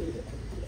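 A Titan Thai pigeon gives one short, low, throaty coo, heard up close.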